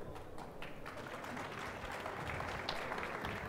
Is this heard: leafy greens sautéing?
no